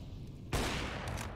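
Gunfire in a Counter-Strike match: after a quiet, low background, a sudden burst of shots breaks out and rolls on as a rough, sustained crackle, faint and somewhat distant.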